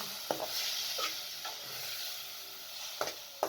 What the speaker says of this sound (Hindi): इसके अंदर कीमे को शामिल करके 3 से 4 मिनट तक भून लें